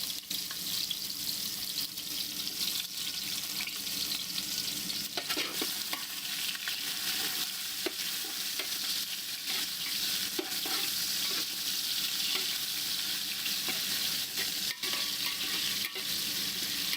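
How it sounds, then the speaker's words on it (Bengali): Chopped onions fry in a pan toward light brown, making a steady, even sizzle for over fifteen seconds with faint stirring scrapes and no voices. "দিয়ে হালকা ব্রাউন কালার ফ্রাই করে নেবো পেঁয়াজটাকে।"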